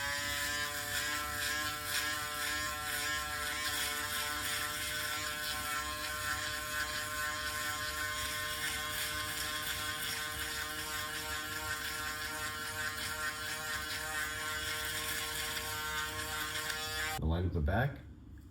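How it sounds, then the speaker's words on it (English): Electric shaver buzzing steadily close up as it cuts a curly beard down to the skin, a continuous motor drone that cuts off near the end with a brief handling rustle. "now grab your shaver and let's cut this down to skin"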